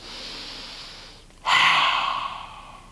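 Lion's breath in a calming yoga exercise for kids: a steady inhale through the nose, a brief pause, then a forceful, breathy exhale, loud and close with no talking.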